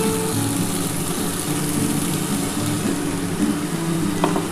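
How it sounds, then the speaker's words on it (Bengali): Spinach water hits a hot pan for palak paneer, giving a loud, steady frying sizzle that runs unbroken throughout, with a brief clatter near the end. "এই দেখো বন্ধুরা পালং শাকের জলটা আমি দিয়ে দেবো এবার"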